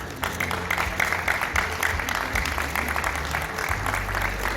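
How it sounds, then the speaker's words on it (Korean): A church congregation claps together at a Korean Presbyterian ceremony marking a denominational union, a steady wash of applause mixed with low hum and some voices. "우리와 같은 박수로 한 번만 더 축복해 주시기 바라겠습니다."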